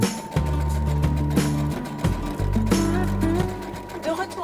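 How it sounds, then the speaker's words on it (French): A sewing machine runs in bursts as it stitches a short seam on mesh fabric for a mask bag, with a steady mechanical hum interrupted by brief pauses and restarts. "Je pars donc à la machine à coudre pour réaliser cette petite couture."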